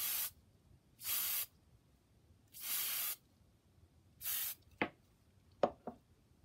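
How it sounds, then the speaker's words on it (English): Hairspray from an aerosol can, four short hissing bursts of about half a second each at a steady pace, close and fairly quiet, followed by a few small handling clicks. "let me just get the hairspray out. And we'll hit it with that."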